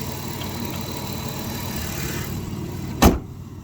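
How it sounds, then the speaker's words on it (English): Hood of a 1997 Dodge Caravan LE slammed shut while the engine idles: a steady low motor hum, then one sharp, loud metallic thud near the end, followed by quieter idling. "So I'm gonna shut the hood here."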